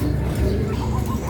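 Breeder pigeons kept in a loft, cooing softly and continuously in low, rolling tones, with a faint chirp now and then over a steady background hum.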